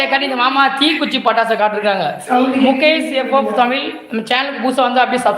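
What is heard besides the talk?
None of the usual background noises is heard.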